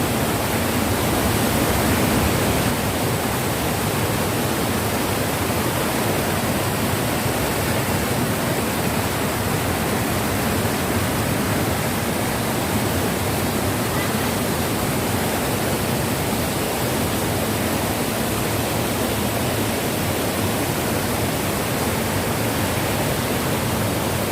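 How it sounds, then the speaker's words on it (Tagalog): Loud, steady roar of rushing water at Tai Po fills the whole stretch, a dense unbroken wash of noise without pauses or voices. "Lakas ng tubig, guys."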